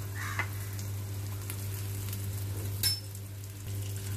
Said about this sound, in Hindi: अभी मैं इसमें थोड़ा सा शैलो फ्राई कर रही हूँ, ये डीप फ्राई नहीं करने हैं